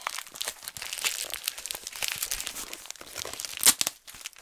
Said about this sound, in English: Okay, I got the tape off.